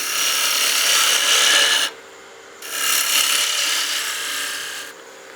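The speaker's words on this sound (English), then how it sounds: "Just peeling cuts with the skew to get this roughed down to an approximate shape." A wood lathe spins a small spindle blank for a gnome Christmas ornament while a skew chisel takes peeling cuts, giving a loud hissing rasp in two long bursts separated by a brief quieter pause.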